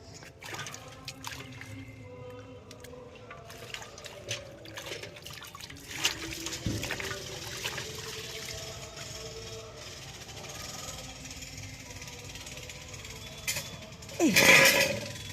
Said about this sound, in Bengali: মূলতে কাদা রয়েছে একটুখানি ধুয়ে নেব